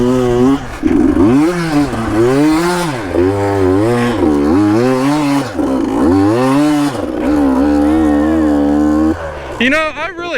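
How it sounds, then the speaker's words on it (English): A two-stroke motorcycle engine revs repeatedly, the pitch climbing and falling in rising and falling waves. It is loud and close and runs for most of the stretch before a brief noisy break at the end. "I really hate two strokes with a passion."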